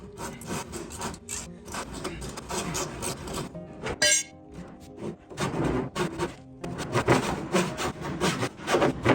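A wooden frame piece is notched with hand tools, giving repeated rasping, sawing strokes in uneven bursts, close and fairly loud, with a brief knock partway through.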